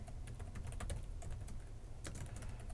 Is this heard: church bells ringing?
no